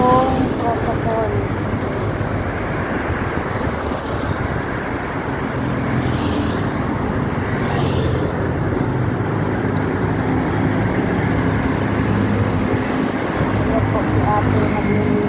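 Traffic flows steadily along a highway on Roxas Boulevard, a constant loud roadway roar of cars and buses passing nearby, with people talking over it.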